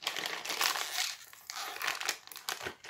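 Plastic packaging glued shut on a LEGO Ninjago magazine is pulled open, giving close, continuous crinkling and crackling with short tearing bursts and no voices.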